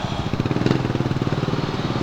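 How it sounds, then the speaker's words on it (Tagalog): A loaded motorcycle rides along with its engine pulsing in a steady rhythm, close and moderately loud, with no talking over it. "Kargado itong motor."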